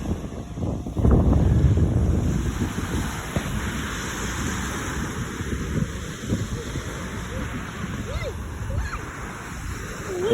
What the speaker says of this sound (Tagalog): So ito yung dagat dito sa Sangay